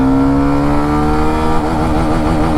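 Hero Xtreme 125 motorcycle pulling away in first gear, its engine note rising steadily in pitch as it revs up, loud and close throughout.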